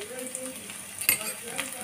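Garlic, finely chopped ginger and green chili fry in hot oil, making a soft, steady sizzle with a clink of a utensil midway, fairly quiet and close.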